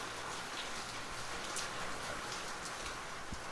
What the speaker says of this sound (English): it's going to rain today